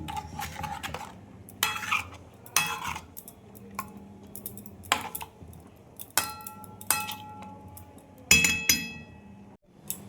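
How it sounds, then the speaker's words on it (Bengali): A spoon clinks against a bowl while mixing rohu fish with mustard-poppy paste and mustard oil, with irregular close clicks and scrapes repeating through the whole stretch and no talk. "আমি হাত দিলাম না, চামচ দিয়ে মাখিয়ে নিচ্ছি।"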